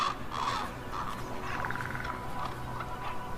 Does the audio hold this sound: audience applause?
no